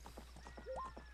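Steady, rhythmic clip-clop of horse hooves trotting in The Legend of Zelda: Ocarina of Time, with a brief whinny-like tone midway, all over a low background hum.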